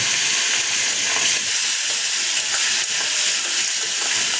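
Hot oil with frying spices hisses and sizzles loudly just after a little water is poured into the pan, a steady close steam-and-crackle texture with no voices, while pabda fish curry is being cooked.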